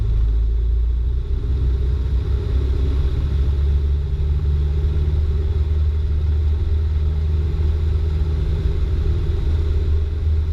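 A light aircraft engine runs at full throttle during the takeoff roll, a loud, constant droning roar with a steady low rumble that holds unchanged from start to finish.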